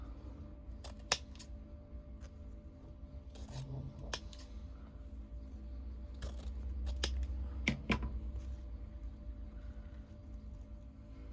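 Scissors snip ribbon tails on a handmade bow, with a handful of sharp, separate cuts spaced irregularly over a soft background hum.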